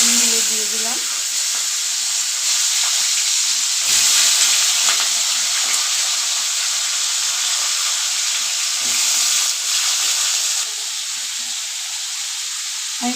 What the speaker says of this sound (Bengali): আলু বেগুনগুলো দিয়ে দিলাম।